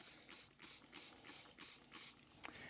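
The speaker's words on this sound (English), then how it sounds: "We're actually gonna spray down the tire here." Tire and rubber cleaner is sprayed onto a car tire in seven quick, evenly spaced bursts from a trigger sprayer, close and crisp, followed by a small click at the end.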